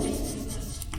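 Chalk or marker scratching across a classroom board during an English writing lesson, a brief close rubbing stroke.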